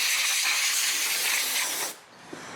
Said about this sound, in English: Next thing we're going to do is blow some compressed air around where all the ignition coils are plugged into the top of the